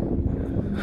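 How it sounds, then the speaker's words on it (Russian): Wind buffeting the microphone at the Devil's Wall rock formation in the Harz, Germany: a steady, loud low rumble and rustle filling the whole moment, with no voices. "О, ветер!"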